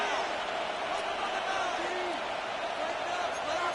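A stadium crowd in an American football video game roars steadily as third down approaches, a dense constant cheer filling the scene with a commentator talking over it.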